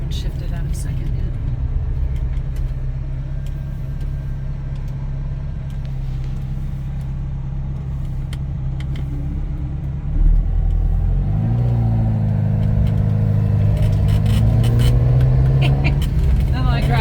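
A 1979 Ferrari 308 GT4 engine drones steadily while driving in second gear, a continuous close rumble that rises in pitch as it revs harder near the end, with a voice talking over it.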